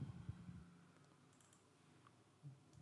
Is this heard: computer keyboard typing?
yes